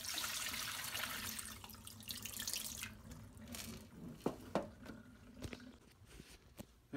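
Dirty fish tank water pours out in a steady rushing stream, then thins into splashes and a few distinct drips and plops close by, with no talking.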